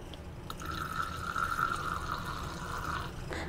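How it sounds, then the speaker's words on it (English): Water pours steadily in a thin stream into a container holding carrier oil and polysorbate 80, a continuous trickle lasting a few seconds in a quiet room with no talk. "Then I'm going to add water to it."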